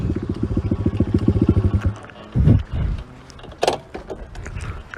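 A 2007 Honda CRF motorcycle idles with a rapid, even putter that cuts out as it comes to a stop, followed by a few loose mechanical clunks and rattles nearby.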